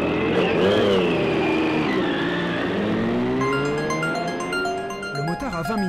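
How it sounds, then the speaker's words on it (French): A 600 cc racing motorcycle engine screaming at high revs, its pitch swinging up and down through gear changes on a track, loud and close, with a voice talking over it. "Kevin pilote une moto de 600 cm3"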